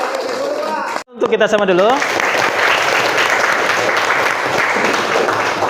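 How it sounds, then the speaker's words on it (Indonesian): A classroom audience breaks into loud, sustained applause that fills the room after a brief pause, while a presenter speaks over the first moments of the clapping. "Tepuk tangan dulu dong ya."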